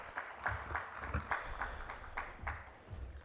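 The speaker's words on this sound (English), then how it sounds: "Let's have a huge round of applause for him as well, everyone." Light applause from a conference audience, with scattered claps in an uneven rhythm, faint and somewhat distant.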